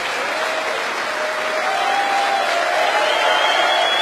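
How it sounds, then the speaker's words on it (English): Sustained, thunderous audience applause filling a snooker arena in Antwerp, Belgium after the Antwerp Open 2012 final, steady and dense throughout with a faint tonal hum running beneath the clapping. "Thunderous applause."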